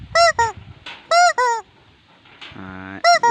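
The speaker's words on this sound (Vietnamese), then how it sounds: "Ngay chỗ cổ này là chỗ cổ này là có một cái còi đây các bạn." A plastic toy chicken squawks through a squeaker whistle in its neck, giving loud, close honking blasts in short pairs, with a lower buzzing drawn-out squeal in between.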